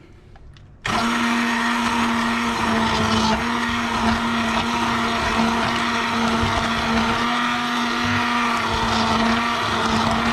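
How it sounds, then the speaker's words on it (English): A steady, loud whirring immersion blender motor starts abruptly after a brief quiet moment and runs continuously while blending mushroom soup, with a constant pitched whine throughout. "now I'm just going to take my handy immersion blender, and I'm just going to blend this up."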